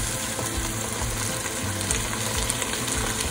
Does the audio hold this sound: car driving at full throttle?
no